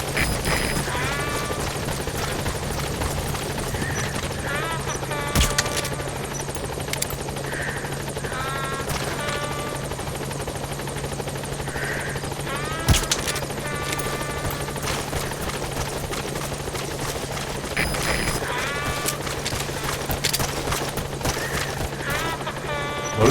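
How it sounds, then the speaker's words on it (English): A support helicopter in Metal Gear Solid V hovers close by with a steady, droning rotor thrum that persists throughout, while faint animal bleats and a few sharp clicks and thuds pop up intermittently over it. "Support helicopter has arrived."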